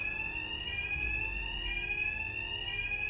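A fire alarm rings continuously in Batman: Arkham Knight, a loud, steady high-pitched electronic tone that holds unbroken for the whole stretch with a low background rumble beneath.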